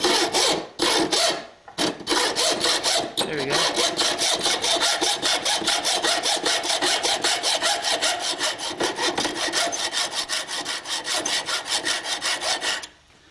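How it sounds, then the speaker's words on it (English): Hacksaw cutting brass tube for a stop-motion puppet armature, with the blade turned around: steady, loud rhythmic back-and-forth strokes that run continuously after a few hesitant starts, with no talking. "So by turning the hacksaw blade around,"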